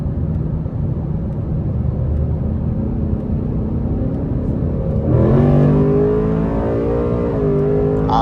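A Ford Mustang S650 on Nitto NT05 tires accelerates hard from inside the cabin. A low road rumble builds into a loud, rising engine pull midway, with the pitch climbing through a gear change.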